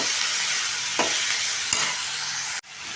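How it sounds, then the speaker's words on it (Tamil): Sambar powder and coriander powder fry in a pan for a snake gourd gravy, a steady close sizzle broken by a couple of sharp spoon scrapes before stopping abruptly. "கொஞ்சம் லைட்டாக சாம்பார் தூளுங்க, கொத்தமல்லி தூள் நல்லா போட்டு நல்லா பச்சை வாசம் போகிற மாதிரி வணக்கிக்கலாங்க."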